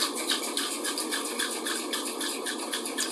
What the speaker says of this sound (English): I'm gonna give it a quick dry shake without ice.